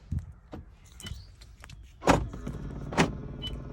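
Power door locks on a 2008 Mercedes-Benz C300 worked with the key, giving sharp mechanical clunks and actuator thuds, two strong ones close together near the end after lighter clicks, heard up close with no talking.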